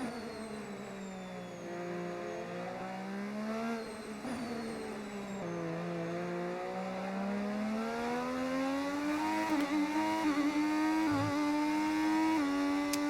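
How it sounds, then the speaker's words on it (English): Formula 1 car engine in the racing game F1 25, a loud sustained high-pitched whine rising and falling steadily through the gears, with a brief dip near the end, heard alone without talk. "Car sounds good, sounds amazing"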